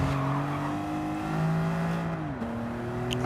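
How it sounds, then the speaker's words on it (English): A BMW Z4 in Gran Turismo 7 revs high and steady through a time-trial lap, its engine note climbing and then dropping sharply as it shifts. Loud, close and continuous, with a faint squeal of tyres near the end. "I revved it right out in second gear then"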